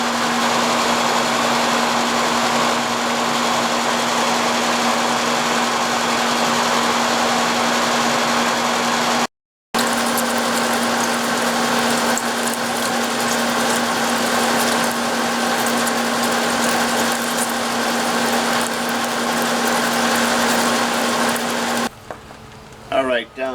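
An engine-driven portable welder runs with a steady, continuous engine drone and hum, close and constant, with one brief dropout near the middle and a short change at the end.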